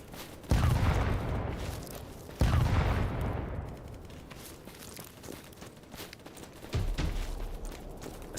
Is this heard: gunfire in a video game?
yes